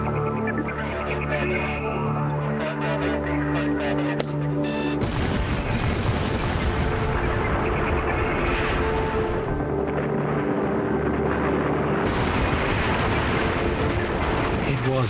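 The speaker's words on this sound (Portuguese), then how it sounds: "Cargas de dinamite são colocadas em cada uma das extremidades do canal" A dynamite blast set off at the ends of a canal at the Itaipu dam on the Paraná river, heard as a loud, sustained rumbling roar with heavy low-end noise that fills the whole stretch after a brief tonal hum at the start.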